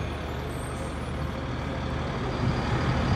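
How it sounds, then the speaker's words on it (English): A cross tie truck idles and works beside a CSX railroad line, picking up old railroad ties, giving a steady, moderately loud diesel rumble with a faint rise toward the end and no voices. "a cross tie truck on the side up here picking up the old cross ties to be recycled"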